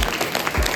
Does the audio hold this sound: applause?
yes